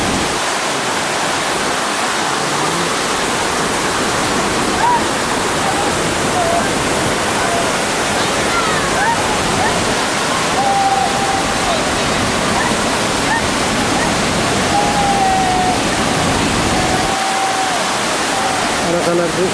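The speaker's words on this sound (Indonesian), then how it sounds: "air terjun yang disebut Ade." Loud, steady roar of a waterfall at a village in Unurum Guay district, a dense unbroken rush of water heard up close for the whole stretch, with no voices rising above it.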